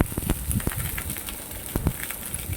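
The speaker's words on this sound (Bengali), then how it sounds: "ওই তেলের মধ্যেই আমি দিয়ে দিলাম বেগুনগুলো, কেটে রাখা বেগুনগুলো। বেগুনগুলোকেও আমি লাল লাল করে ভেজে নিই।" Sliced eggplant frying in hot oil, a steady hiss of sizzle with scattered soft crackles and pops, close and continuous with no talking.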